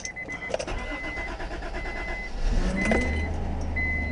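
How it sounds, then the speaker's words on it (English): An Acura car being started: the starter cranks briefly and the engine catches into a steady idle, with chimes and warning beeps sounding alongside, close and clear. "and we start the car"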